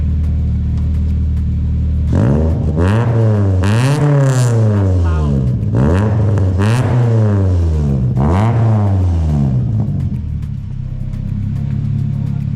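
A car engine running with a repaired, formerly rusty exhaust, revving up in several rising bursts with a steady idle between them, loud and close.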